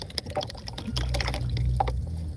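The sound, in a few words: rinsing out paint brushes in water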